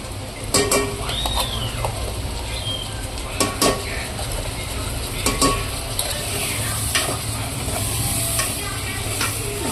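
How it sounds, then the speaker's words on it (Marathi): Ground masala fries with chicken in oil while being stirred, a steady close sizzle broken by repeated metallic scrapes and knocks of the spoon against the pan. "हा मसाला चांगला आपण परतून घेऊया।"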